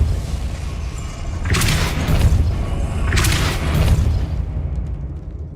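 Depulso spell blasts fire in the video game Hogwarts Legacy. Two loud, booming bursts land a couple of seconds apart over a low rumbling background, and then the sound fades.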